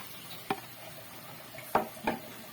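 Pechay greens are added to a pan and stirred, giving a low sizzle under a few sharp clacks of a utensil against the pan at uneven intervals.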